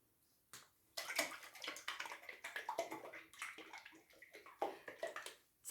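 Water poured into a mix of fluid acrylic paint and pouring medium, a run of irregular splashing and trickling bursts lasting several seconds, close and fairly quiet with no talk.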